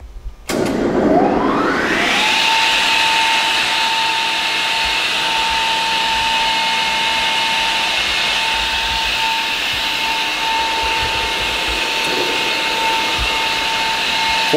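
A Diehl No. 55 straight line rip saw starts up with a rising whine that settles into a loud, steady, high running hum, heard close and continuing alone to the end.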